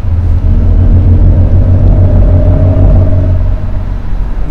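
Interior of a camouflaged 2022 Mercedes EQS electric S-Class sedan under acceleration, its synthetic drive sound a steady loud low roaring pulse with a faint rising tone, continuous and close throughout.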